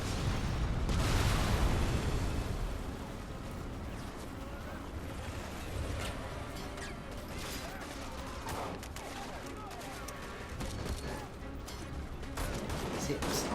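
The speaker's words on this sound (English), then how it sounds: "See, it's all the shooting." Gunfire in Marvel's Spider-Man: a fairly quiet, steady background of shots and bangs runs throughout, a bit denser near the start, with scattered sharper cracks later.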